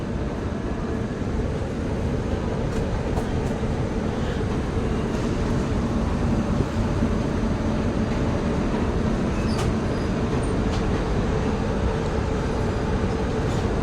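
The Maurya Express from Gorakhpur arrives at Hatia station with a loud, steady rumble of rolling rail cars that holds evenly throughout and is heard up close. No one speaks.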